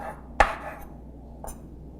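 A knife chops filet mignon into two-centimetre cubes on a board, one sharp close knock followed by a fainter second cut about a second later, with quiet background in between.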